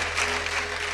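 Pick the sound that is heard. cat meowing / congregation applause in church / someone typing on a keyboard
congregation applause in church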